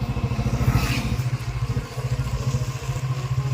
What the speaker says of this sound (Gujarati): આ બાઇક આવી એ બાજુ